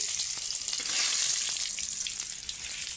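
Fish fried crisp in hot oil in a wok gives a steady, close, hissing sizzle with faint scraping stirs, no voices over it.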